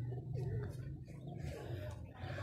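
Two pigeons coo outdoors near a house, low repeated throaty calls rolling on steadily and fairly faint, with a voice briefly audible in the background.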